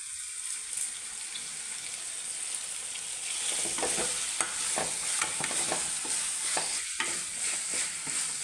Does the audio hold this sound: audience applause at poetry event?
no